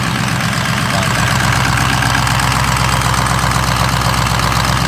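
An engine idles on a cold start with a loud, steady low rumble and a faint rhythmic knock, running continuously and close with no talk.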